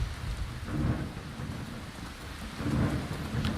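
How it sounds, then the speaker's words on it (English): Steady rain and a rolling thunderstorm in the video game Skyrim, a soft continuous hiss of rainfall with low rumbles of thunder swelling twice, fairly quiet and with no voices. "Gotta hurry up and get out of this rain to get to where we're going."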